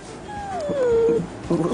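A small puppy lets out one long descending whimper, thin and close, followed by a brief second whine, with people talking in a studio setting underneath.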